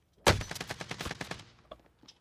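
Gunfire in the Warzone video game from an MP5 loadout, a sharp first shot followed by a rapid burst of automatic rounds that fades into a few scattered, quieter shots, close and loud with no talking.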